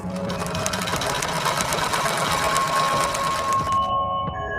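A sewing machine runs in a home, its rapid steady needle clatter continuous and fairly close for several seconds before stopping abruptly, with a faint television playing in the background.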